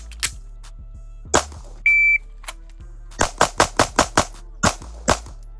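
A Springfield Hellcat Pro Comp concealed-carry pistol fires a rapid string of loud, sharp gunshots outdoors, several spaced shots then a quick burst of about six, with a brief electronic beep in between.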